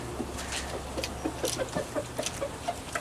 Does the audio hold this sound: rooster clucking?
yes